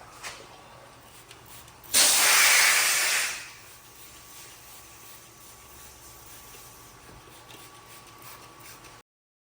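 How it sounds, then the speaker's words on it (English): A loud, steady aerosol spray hisses for about a second and a half into the rocker panel of a 1998-or-later Ford Crown Victoria over a low background hum, then stops. "So Junior, go ahead and spray up in there and make sure we get it all."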